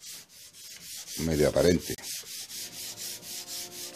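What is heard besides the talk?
hand sanding wood with worn sandpaper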